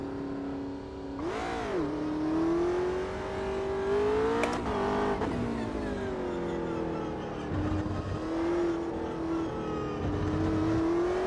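A race car engine in the video game Automobilista 2 heard from onboard, revving steadily with pitch sweeps up and down through gear changes, loud and continuous with no talking.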